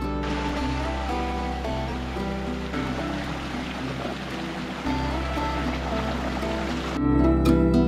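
Steady rushing water of a mountain stream in a valley in the Retezat Mountains, Romania, flows continuously, a broad even wash, with occasional faint clatter and a slight rise in volume near the end.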